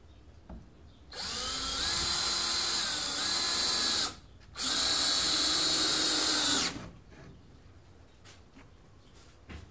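A power drill drives screws through leftover birch plywood onto a sawmill log carriage, two sustained whirring bursts of about three seconds each separated by a short pause, loud and close with no talking.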